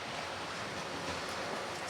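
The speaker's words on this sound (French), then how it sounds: "Est-ce que vous entendez le bruit des vagues?" Waves break and wash up on a beach in Greece: a soft, continuous surf hiss heard faintly from a distance, with no voices.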